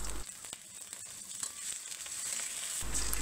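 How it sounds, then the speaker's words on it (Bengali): Chopped onions frying in mustard oil in a pan, a faint steady sizzle with light crackles, and louder bursts of sound at the start and end. "কড়াইয়ে দিয়ে দিচ্ছি পরিমাণ মতো সরিষার তেল, সাথে দিয়ে দিলাম 1/2 কাপ পেঁয়াজ কুচি।"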